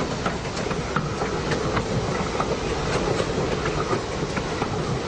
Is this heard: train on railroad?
yes